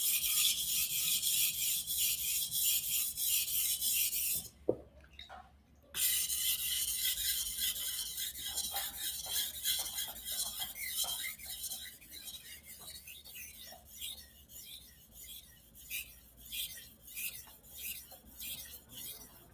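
A Japanese kitchen knife is drawn across a 1000-grit whetstone in steady back-and-forth rasping strokes, close and fairly loud, with a brief pause near five seconds and the strokes then thinning into lighter, intermittent scrapes.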